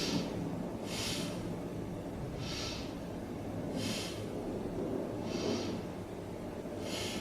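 A person holding a yoga pose takes slow, deep breaths, about five airy inhales and exhales in an even rhythm, close and clear against a quiet room.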